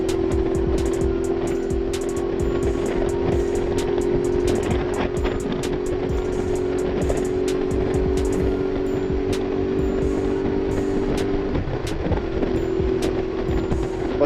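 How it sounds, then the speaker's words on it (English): A Suzuki V-Strom motorcycle rides along a road, its engine droning steadily under constant wind rush, with a brief dip in tone near the end. "But the V-Strom is a joy. It's a real joy to ride."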